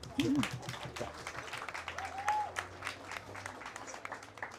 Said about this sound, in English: we can have an applause